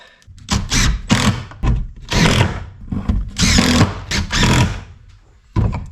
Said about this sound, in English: let's throw some screws in here